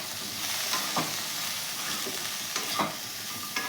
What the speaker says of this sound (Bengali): জল দিয়ে দিচ্ছি সেদ্ধ হবার জন্য